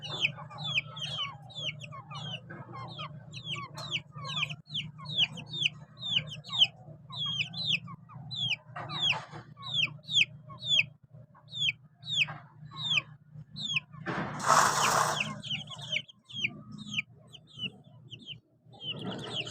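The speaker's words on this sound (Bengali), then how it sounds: "কিচির মিচিরের আওয়াজ তাদের।" Chickens and roosters cluck and chirp steadily in a busy, repeated chorus over a low background hum, with a brief rustling burst partway through.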